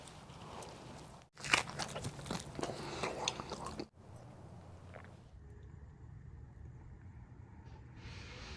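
A bite into a smoked turkey leg cooked on a Kamado Joe, a brief moist crunch followed by several seconds of soft close chewing, with quieter room tone trailing off after.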